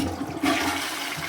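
A repaired toilet lets out a short half flush, a brief rush of water that swells suddenly and then settles into steady draining, close by, with no one talking.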